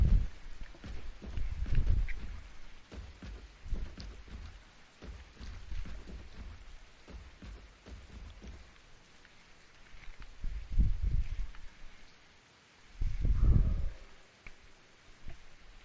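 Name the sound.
rain in the video game Poly Ark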